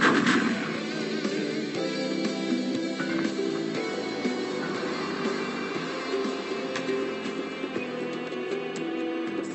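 Magic missile spells fire in rapid succession in the mage game Ironstrike, a dense stream of crackling, booming blasts that overlap continuously at steady loudness.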